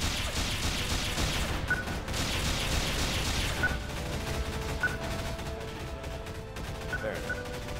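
Gunfire in Garry's Mod during a Warhammer 40K roleplay fight, a dense, continuous rattling barrage for several seconds that then thins into scattered mechanical clicks and pings.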